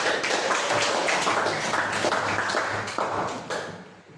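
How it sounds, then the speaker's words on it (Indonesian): Classroom students applauding together during a teaching lesson, a dense, steady patter of many hands that holds for several seconds before tapering off near the end. "Oke, tepuk tangan semua."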